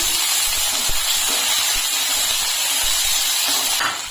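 Ginger-garlic paste sautéing in a hot pan for homestyle chilli chicken gives off a loud, steady, hissing sizzle that holds evenly and then eases slightly at the very end.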